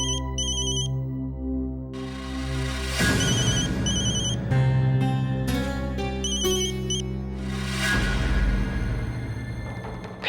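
A mobile phone's melodic ringtone plays loud and repeatedly, its chiming phrases looping again and again over about ten seconds in a domestic setting.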